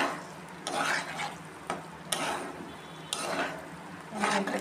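Paneer and water going into a hot frying pan and stirred, a steady sizzle punctuated by scraping strokes and clacks of a spoon against the pan, close and moderately loud with no voices.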